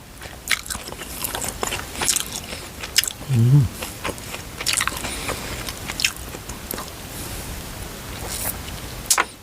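Close, crisp biting and chewing of grilled enoki mushrooms wrapped in bacon, with crunchy bites and wet mastication sounds recurring irregularly in a quiet ASMR setting, without any speech.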